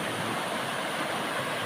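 A clear mountain stream flowing at a spring resort, a steady broadband rush of water heard close and continuous with no voices.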